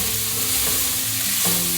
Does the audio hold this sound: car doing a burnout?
no